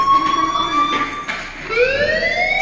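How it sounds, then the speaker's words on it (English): A loud electronic fire alarm blares in a school in the video game Life is Strange, a steady piercing tone that breaks off and returns with a rising sweep, close and alone without talk. "do you hear that fire alarm?"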